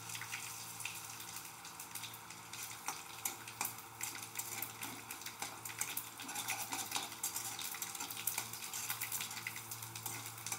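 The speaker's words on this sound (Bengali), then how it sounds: "ওই তেলেই আমি দিয়ে দিচ্ছি জিরা, কালো জিরা আর" Cumin, nigella seeds and dried chilli frying in hot oil, a steady close sizzle and crackle with faint stirring and utensil clinks throughout.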